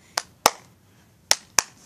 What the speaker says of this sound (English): sorry for my annoying clapping